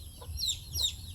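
A mother hen with five chicks gives a couple of soft, close clucks with faint high peeps mixed in, quiet against a low background hum.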